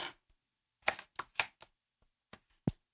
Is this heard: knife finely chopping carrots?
yes